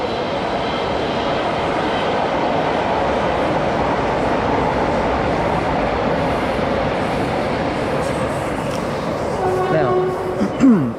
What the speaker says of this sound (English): Oh, and there's the train going by.